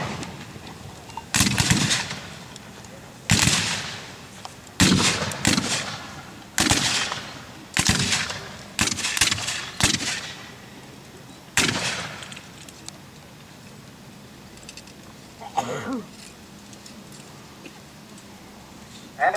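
Civil War reenactment infantry firing muskets by file, a rolling series of about nine loud, sharp reports at irregular intervals, each with a short echoing tail, followed by a few fainter pops in the distance.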